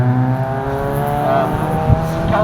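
Race cars on a track at a drifting event, including a Datsun: a loud, steady engine roar with rising pitch as the cars accelerate past, close and continuous without a break.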